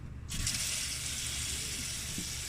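Light clay LECA pebbles being rinsed under running water give a steady, close rush of water, starting abruptly after a brief quiet moment with faint rattling beneath.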